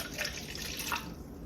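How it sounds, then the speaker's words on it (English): Warm water poured from a tap onto a teaspoon of yeast for naan dough, a steady close splashing and trickling stream running unbroken with no talk. "I'm gonna add a little bit of warm water to it just to get the yeast blooming."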